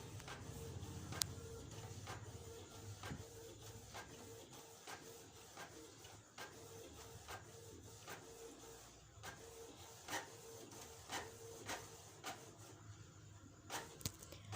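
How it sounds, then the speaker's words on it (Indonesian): A printer runs a colour photocopy with a steady mechanical whir and evenly spaced clicks roughly every second as the paper feeds through, heard faint and close with no talking. "ini printer ini bisa memfotokopi hitam putih dan berwarna"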